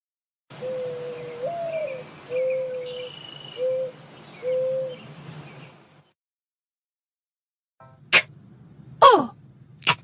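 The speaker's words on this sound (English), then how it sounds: "The word coo is a sound of a pigeon or a dove." A pigeon or dove gives several soft, separate coos, each with a slight rising inflection. A pause of silence follows, then a few sharp chirps.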